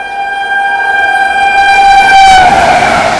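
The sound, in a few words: Karnataka Sampark Kranti express train passing at speed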